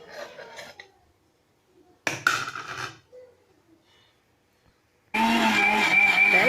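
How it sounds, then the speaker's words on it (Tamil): A mixer grinder blending onion, tomato and garlic: short bursts of whirring motor noise separated by pauses, then a loud steady grind that runs to the end. "எல்லாத்தையும் மிக்சியில் அடித்து எடுத்தாச்சு"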